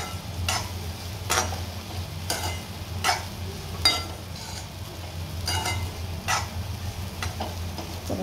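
A spatula scrapes and clinks through food sautéing in a pan, with regular strokes roughly every second over a continuous low sizzle, close and without speech.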